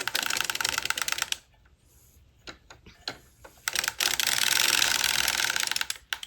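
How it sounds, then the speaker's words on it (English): A circular sock knitting machine being cranked around a round gives off rapid clattering mechanical clicks, loud and steady, with a pause of a few scattered ticks partway through. "And I crank until I get back to this beginning of round."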